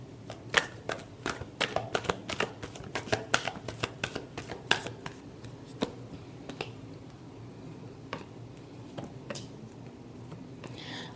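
Tarot cards are shuffled during a Libra love reading, giving a rapid run of crisp riffling snaps and flutters that come thick at first and then thin out into scattered taps, close up over a low background hum.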